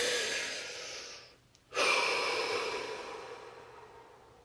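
A person takes a slow, deep breath in that fades to a brief pause, then lets out a long, audible exhale that trails away, heard close and alone.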